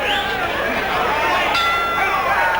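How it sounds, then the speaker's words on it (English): A boxing ring bell ringing to end round 9 of a heavyweight bout, clear metallic dings over crowd noise and babble, several strikes across the clip. "Bell sounds, ending round 9"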